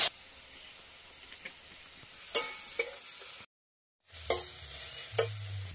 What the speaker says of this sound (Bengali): কাশ্মীরি লঙ্কার গুঁড়ো দিয়ে আমি ভালো করে মশলা কষিয়ে নেব